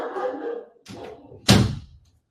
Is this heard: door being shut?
yes